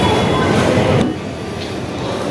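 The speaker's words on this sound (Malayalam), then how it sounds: "നമ്മളങ്ങനെ മെട്രോയിൽ കയറാൻ പോവുകയാണ്" A city metro train heard from close by, a loud rumbling rush that suddenly drops to a quieter steady hum partway through, with a faint clank.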